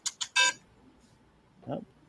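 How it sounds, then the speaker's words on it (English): A mobile phone rings with a short burst of bright electronic chirps, three quick pulses, then a softer tone after a pause, in an otherwise quiet room. "that's my phone ring."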